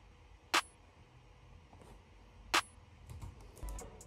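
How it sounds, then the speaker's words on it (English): A lo-fi snare sample recorded from a cell phone and used in an FL Studio beat strikes twice, two seconds apart, as short, crisp clicks that are fairly faint, with soft clatter following. "Again, then layered with my cell phone snare."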